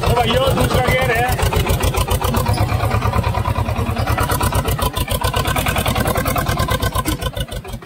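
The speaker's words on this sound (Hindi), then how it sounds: "सेकंड गियर में नहीं चल पाया ट्रैक्टर, लोड मान रहा है" Swaraj 724 tractor engine in second gear under heavy load from a 6x6 disc harrow, a steady loud rumbling chug with rapid regular firing pulses throughout, mixed with voices talking over it.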